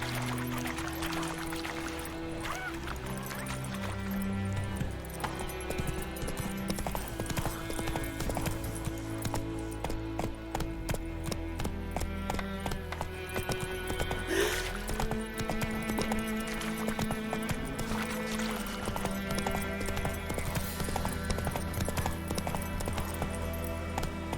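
Steady clip-clop of a horse's hooves galloping through The Witcher 3 game world, rhythmic and continuous over game music, with a brief whinny.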